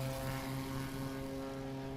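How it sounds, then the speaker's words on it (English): A heavily modified experimental STOL propeller airplane takes off and climbs, a steady loud buzzing engine drone with strong tonal hum that holds throughout, with no speech over it. "Fantastic takeoff for Mike there."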